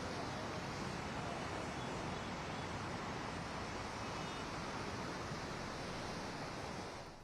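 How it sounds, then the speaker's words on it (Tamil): Rough, churning sea surf on a Chennai beach in turbulent conditions, heard as a steady, dense roar of crashing waves with constant wash and some wind buffeting, loud and unbroken throughout. "இன்று காலை முதலே இந்த கடல் கொந்தளிப்புடனே காணப்பட்டு வருவதை நம்ம பார்த்துட்டு இருக்கோம்"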